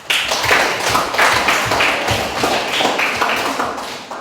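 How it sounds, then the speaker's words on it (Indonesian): Students in a classroom clapping their hands together, loud and close, in a brisk rhythmic pattern of claps at a regular beat throughout. "Ya, tepuk tangan."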